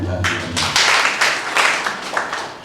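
A congregation at a Sunday church service claps in a steady rhythm, bursts arriving about twice a second, loud and close and filling the room, with voices faintly mixed in.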